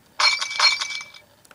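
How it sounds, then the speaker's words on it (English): Glass shatters in the Happy Wheels video game, a sharp burst of breaking and tinkling shards that rings out twice in quick succession, then fades with a few faint clinks. "Indiana Jones riding through glass."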